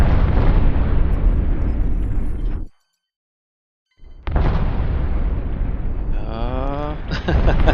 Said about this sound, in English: I'm getting hit with torpedoes, that's for sure